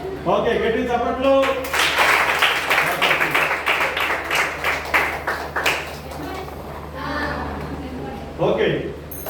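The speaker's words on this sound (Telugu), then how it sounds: "గట్టి చప్పట్లు" An audience claps loudly at a children's gathering in a dense burst lasting several seconds. Talk is heard before it, and voices return as the clapping fades.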